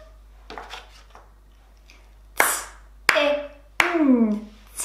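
Three sharp hand claps sound in a steady rhythm, each followed by a short spoken syllable, with faint quieter taps before them in a phonics practice setting.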